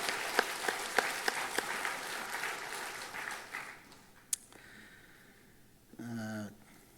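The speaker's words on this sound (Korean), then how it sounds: "격려의 박수 함께 박수로 하나님께 영광 돌리겠습니다" A church congregation at a Sunday morning service applauds the choir, a spread of clapping with a few sharp nearby claps standing out, tapering off midway before a brief voice-like sound near the end.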